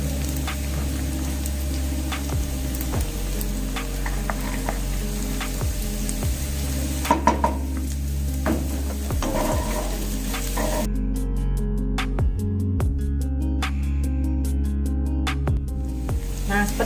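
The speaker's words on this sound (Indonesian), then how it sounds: "Nah kita tumis bawang merahnya sampai harum. Yuk, masuklah bawang putihnya." Garlic and shallots sautéing in a pan, a steady loud sizzle throughout with occasional scraping stirs and a few soft clinks, continuous and close with no talking.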